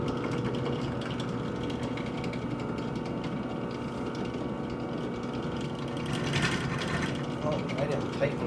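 A quarter-inch bit drilling the air hole and tobacco chamber of a wooden tobacco pipe on a drill press, a steady dense mechanical whir and grind running throughout at close range, briefly rising in intensity near the end.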